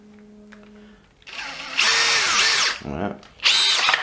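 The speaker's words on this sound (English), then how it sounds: "you can watch the screws getting pushed in" A Makita DF032D 12V cordless drill whirs in bursts as it drives screws into softwood, each run rising and dropping in pitch as it loads up. A brief spoken word comes before the first burst.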